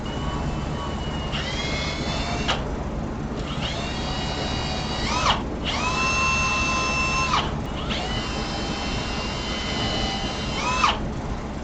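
A power drill bores holes in four separate whining bursts, each a steady high-pitched whir that shifts in pitch as the bit cuts, over a constant low background hum.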